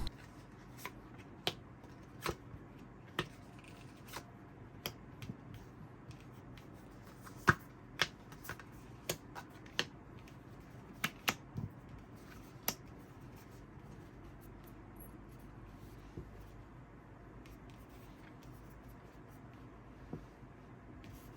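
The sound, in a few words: shuffling and drawing tarot cards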